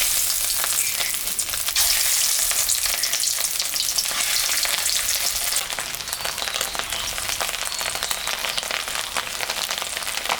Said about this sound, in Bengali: তেল গরম হয়ে গেছে, আমি এখন মাছের ডিমটা ভাজে নেব।